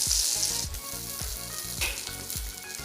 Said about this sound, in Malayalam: ബാക്കിയുള്ള ചിക്കനും കൂടെ ഞാനിതിലേക്കിട്ട് വറക്കാൻ പോവുകയാണ്